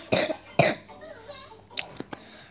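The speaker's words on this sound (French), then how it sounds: "je vais tousser pendant la vidéo" Two sharp coughs close to the microphone from a person with a cold, followed by a soft throat sound and a few faint clicks in the background.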